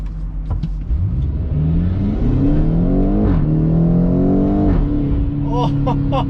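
BMW X5M (2016) engine revving hard and pulling through the gears, a loud rising and falling roar close by, with brief excited shouts at the start and end.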